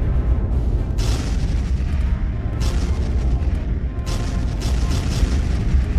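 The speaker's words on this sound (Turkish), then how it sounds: "Gemilerden ve karadan top atışları kalenin duvarlarını vurdu." Cannon fire from ships and from land pounding fortress walls during a historical siege battle, a dense continuous rumble of booms and blasts with several sharper bursts, loud and steady throughout.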